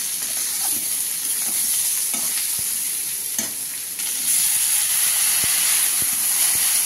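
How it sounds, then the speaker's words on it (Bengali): A little water goes into a hot pan of spiced vegetables as they are stirred, raising a strong steady hiss and sizzle that swells louder partway through, with light spoon scrapes over it. "এবার নাড়াচাড়া করে অল্প একটু জল দিয়ে আমি ঢাকা দিয়ে দেবো"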